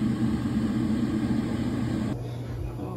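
A pot of soy sauce, vinegar and brown sugar pickling brine boils with a steady, broadband bubbling rumble that continues at a lower level near the end.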